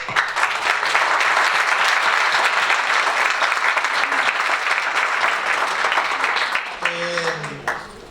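Sustained applause from a large crowd at a law conference panel fills the room for several seconds, then tapers off as a voice begins speaking.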